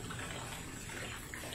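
Water drains away from outdoor patio furniture in a steady, soft gushing trickle, faint and continuous with no talking.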